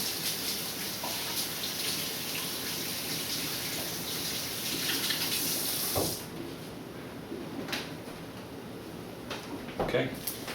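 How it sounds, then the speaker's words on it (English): Hands are washed under a running kitchen tap during pie crust making. Water hisses steadily and loudly for about six seconds, then cuts off, leaving faint splashes and small knocks. "Wash my hands quickly."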